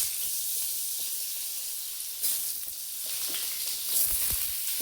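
Pieces of pointed gourd sizzle in hot mustard oil, a loud, steady, close frying hiss with a few crackles and stirring knocks, no voices.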